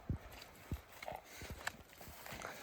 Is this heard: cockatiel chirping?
no